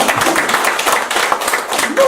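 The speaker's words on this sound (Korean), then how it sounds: "박수 한번 쳐볼까요?" An audience claps at a sales lecture in a hall, with a short burst of fairly loud, somewhat uneven hand claps and voices mixed in.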